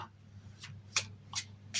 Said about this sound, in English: I'm just going to shuffle, I'm going to pick a card